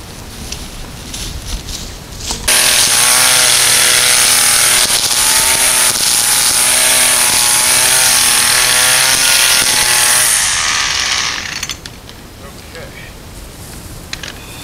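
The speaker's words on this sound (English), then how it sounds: "we're going to have to take our weed whacker and cut an area for ourselves" A gas-powered weed whacker cuts through high grass, its engine revving up abruptly and holding a loud, steady whine for about eight seconds before dropping away, close to the listener.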